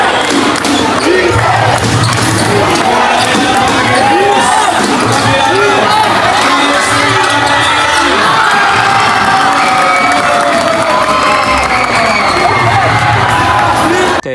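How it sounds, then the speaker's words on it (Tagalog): Crowd at a barangay basketball finals game between Brgy. Tagpos and Brgy. Batingan shouts and cheers loudly and continuously, with whoops and excited voices filling the gym throughout. "Kaya sumigaw na ang barangay Batingan."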